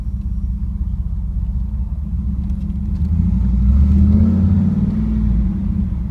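A 1994 Pontiac Firebird Trans Am accelerates on a test drive, its deep engine rumble droning steadily from inside the cabin, then swelling louder for a few seconds midway before easing back.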